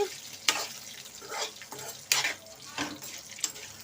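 Green chillies frying in a pan for coconut chutney, with soft sizzling broken by several sharp scraping stir strokes at irregular intervals, close and fairly loud, with no talk.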